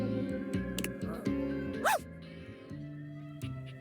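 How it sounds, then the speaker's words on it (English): A small soapy dog named Sudsy in a dating video game, yapping with short high-pitched yips and barks in quick bursts, fairly close and moderately loud over a soft musical background. "a soapy little dog jumps up at your legs, yapping and barking"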